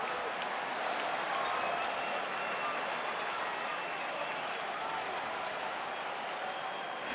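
A Yankees crowd at a 2024 World Series game against the Dodgers applauds in a dense, steady wash of clapping and cheering that holds evenly throughout, broad and distant-sounding like a full stadium.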